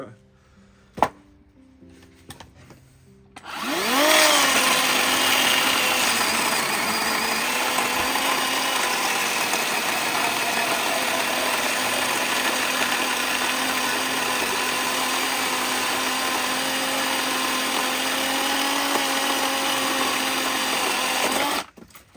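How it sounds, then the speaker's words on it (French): A Parkside pole saw starts up and cuts steadily through a dry, knotty oak log, a loud, continuous buzzing whine that holds for about eighteen seconds after a few quiet knocks. "je ne pousse pas sur la machine, je la laisse travailler à son rythme tranquillement"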